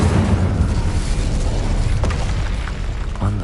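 An Incendio fire spell bursts in Hogwarts Legacy as a loud, roaring blast that stays dense and rumbling throughout, with a few brief sharp clicks near the end.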